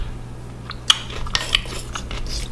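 A spoon clinks and scrapes in a bowl while mashed avocado is mixed, a few sharp taps and short scraping strokes over a quiet background, close by.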